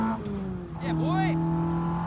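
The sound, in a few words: Ford race car downshifting at Mallory Park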